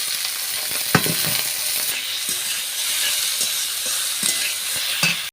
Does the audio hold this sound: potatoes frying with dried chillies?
yes